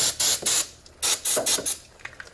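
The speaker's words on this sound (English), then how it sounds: "I'm just going to hit these one more time with electronic cleaner" Electronic cleaner sprayed onto Ford F150 truck battery terminals in a series of short, loud, close hissing bursts, about six in quick succession with brief gaps, then softer sputters at the end.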